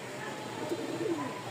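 A pigeon coos softly in a loft, one low, rolling call faint and close against quiet background hum.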